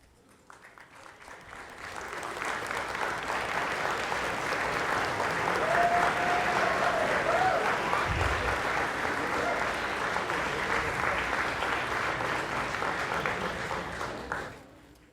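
Graduates at a Marine Institute spring convocation applaud their families, the clapping swelling from quiet to a full, sustained ovation in a large hall, then fading out near the end.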